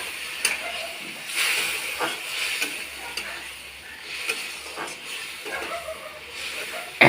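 Spice paste in a pan after water is added gives off a steady low hiss and sizzle, faint and continuous, with small stirring bumps and no talk over it.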